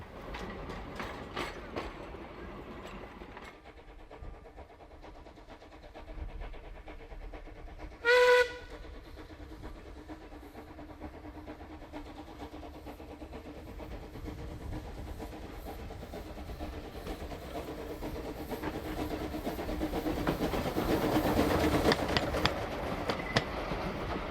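A Pickett locomotive working on the Bush Tramway Club line at Pukimiro chuffs and clanks along with a brief sharp whistle blast early on, its mechanical rumble steady and swelling louder as it draws nearer toward the end.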